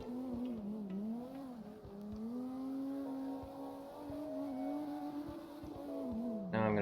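A Toyota Mark II JZX100 in the CarX Drift Racing game drifts with a continuous engine whine that rises and falls in pitch, over faint tire noise, ending in a sudden burst of noise.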